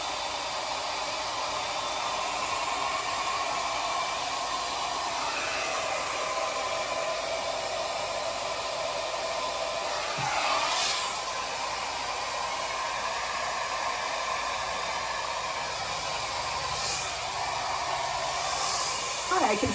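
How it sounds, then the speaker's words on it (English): A blow dryer runs steadily on hair as a continuous breathy roar, close and fairly loud, with brief shifts in pitch as it moves around the head. "It is a little loud, but not nearly as loud as your standard blow dryer"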